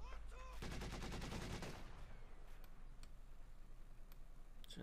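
Company of Heroes 2 1v1 match: a rapid burst of machine gun fire lasting about a second, followed by a few scattered, sharper shots further off.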